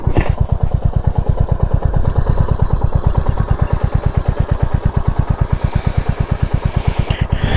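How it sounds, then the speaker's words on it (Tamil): A Royal Enfield Hunter 350, 2025 model, idles alone with a steady, even single-cylinder thump, close and fairly loud throughout. "ஐடியிலே விடுவோம் கொஞ்சம் நேரம்"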